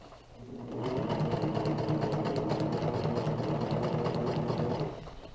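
A sewing machine runs steadily for about four seconds, stitching a flat felled seam on a homemade ultralight tarp, with a close, even mechanical whir that starts and stops cleanly.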